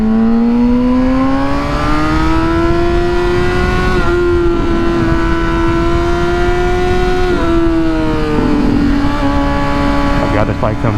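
A 2008 Honda CBR600RR sport bike engine drones loudly and continuously while being ridden, its pitch climbing and holding steady with small dips as the throttle shifts, with wind rush underneath.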